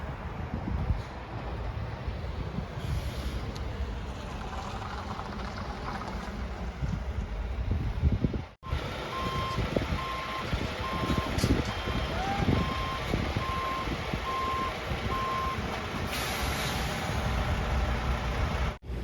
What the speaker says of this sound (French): le bus BNB arrive à vide